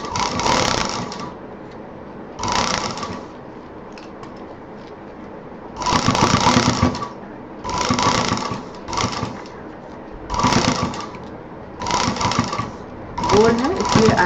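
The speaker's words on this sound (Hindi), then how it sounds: "ये जो जिप वाला हिस्सा है इसको इधर पलटेंगे और पूरा राउंड से सिल जाएंगे" A sewing machine stitching round the zipper section of a homemade college bag, loud close bursts of rapid whirring stitching separated by pauses.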